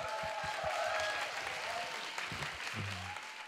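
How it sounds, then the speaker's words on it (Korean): A live talk-show audience applauds steadily, a dense continuous wash of clapping from a crowd, with a few brief vocal sounds and tones mixed in near the end. "큰 박수 한번 부탁드립니다"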